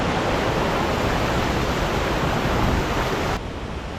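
Bomburu Ella waterfall near Nuwara Eliya in Sri Lanka roars as a loud, steady broadband rush of falling water close by, easing slightly just before the end.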